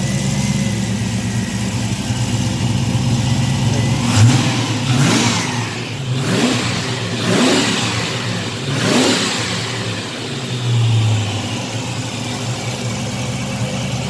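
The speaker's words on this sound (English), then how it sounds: "I know I was just revving it" A TVR Chimaera's engine idles steadily, then is revved hard several times in quick succession, each rise and fall of rpm loud and close, before settling back to a rumbling idle.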